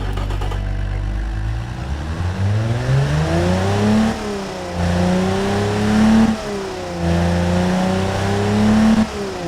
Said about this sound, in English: the engine sounds amazing right now with the exhaust